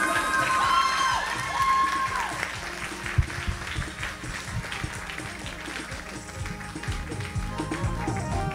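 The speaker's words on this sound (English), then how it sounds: "please give a round of applause to the director of Swaha International Ramleela 2012" Audience applause with scattered cheers for the director of Swaha International Ramleela 2012 at a Ramleela stage performance, steady clapping from a crowd throughout, with a brief tonal sound near the start.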